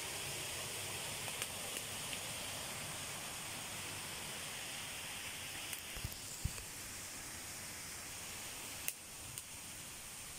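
Underground water rushes out of sight inside a cave in a forest, making a steady, broad hiss with a few faint clicks and knocks and no talking.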